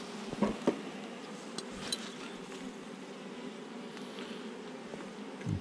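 A honeybee colony in an opened hive, a steady low drone of many bees close by with a few faint knocks and clicks from hive handling.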